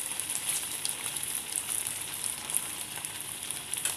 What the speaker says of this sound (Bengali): এখন আমি সসটা দিয়ে নামিয়ে নিচ্ছি, চিলি সসটা দিলে ভালো হয়।